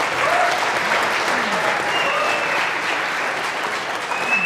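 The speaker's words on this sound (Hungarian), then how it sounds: "a tapsot az megérdemli szerintem előre" A lecture-hall audience at a physics demonstration event at the Műegyetem breaks into loud, dense, sustained applause, a steady wash of many hands clapping at once.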